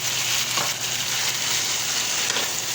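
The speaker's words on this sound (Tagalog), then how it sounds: "Gisa ang sibuyas, bawang, luya. Ihalo-halo hanggang sa matusta. Ilagay na ang kamatis." Onion, garlic, ginger and tomato sautéing in a pan for miso sinigang, a steady close sizzle with soft stirring scrapes and no voices.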